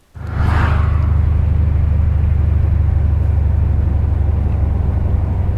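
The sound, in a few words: LS V8 car engine rumble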